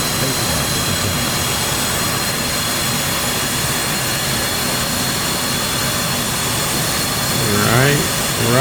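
An F/A-18 jet engine spins up during a cold start in the DCS combat flight simulator, a steady loud roar and whine held throughout, with a brief rising tone near the end.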